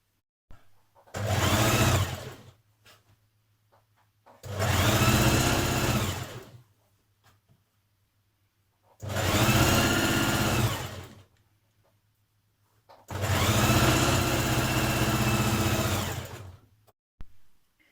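A sewing machine stitches a dress seam in four steady bursts of a few seconds each, separated by quiet pauses, loud and close with no voices.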